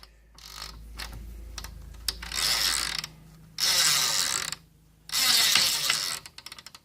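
An oiled hand ratchet being worked back and forth, giving bursts of rapid, close clicking separated by short pauses, loud against a quiet background.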